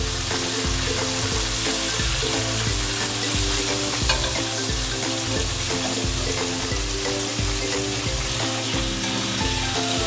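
Chicken wings fry in hot oil over a fairly high flame, a loud, dense, continuous sizzle close by with steady bubbling crackle throughout.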